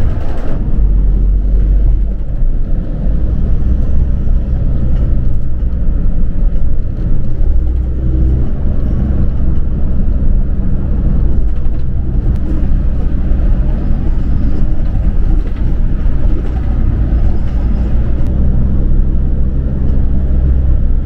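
A large taxi van cruising toward a Cancun hotel, its steady loud engine drone and road rumble filling the cabin without pause.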